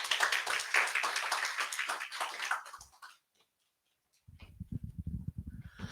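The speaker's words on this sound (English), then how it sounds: "Round of applause for Sanja, please." An audience at a business event applauds a speaker coming up, with a dense burst of clapping that fades over about three seconds. A short silence follows, then quieter patter at a lower level.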